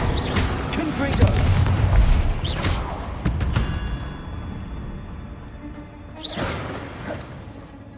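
A Confringo fire spell goes off in Hogwarts Legacy, a loud explosive boom with a whooshing burst amid battle noise, followed by further blasts and thuds, with a voice speaking over parts of the scene.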